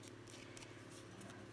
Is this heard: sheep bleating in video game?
no